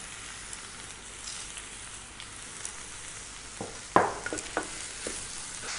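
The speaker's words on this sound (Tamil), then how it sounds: "இந்த வெங்காயம் பச்சை மிளகாய் கருவேப்பிலை பூடு இந்த முட்டைக்கோஸ் எல்லாமே சரியாக ஒன்றா வதங்கலாம்" Onion, green chili, curry leaves, garlic and cabbage sauté together in a pan at a village cooking setting, a steady soft sizzle with a few louder clinks and scrapes of stirring near the end.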